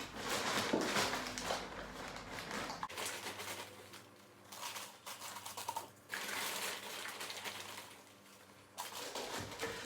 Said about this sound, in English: I'm going to put some compost in just to weigh it down and let it sit.